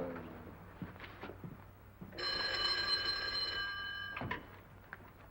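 An old-fashioned telephone bell in a 1939 detective film rings once in a sustained metallic trill of about two seconds, moderately loud amid quiet room tone and faint background movement.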